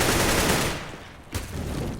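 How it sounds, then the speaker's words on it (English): Loud, dense gunfire and grenade blasts from a professional Counter-Strike: Global Offensive match fill the stretch, with a brief lull before the shooting picks up again. "Taz and Pasha both getting tagged up by the nades and the gunfire heading their way."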